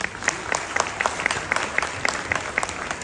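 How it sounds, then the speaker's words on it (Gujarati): An audience at a Gujarati dayro folk music and storytelling gathering bursts into loud, sustained clapping, with a steady rhythmic beat to the claps and a murmuring crowd underneath. "એકવાર તમે તમારા માટે જોરદાર તાળીઓથી બતાવો ભાઈ"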